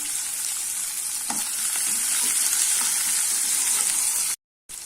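Chopped onion hitting hot oil with popping mustard seeds and dal, giving a steady, close, hissing sizzle that holds for about four seconds before cutting off abruptly, with no talking.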